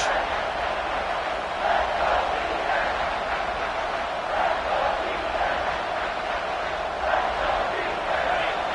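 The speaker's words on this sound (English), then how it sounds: "the crowd coming to life here, trying to help this defense down in the red zone" A football stadium crowd at a college game roars steadily while the home defense holds in the red zone, a dense continuous wash of cheering and noise with small swells throughout.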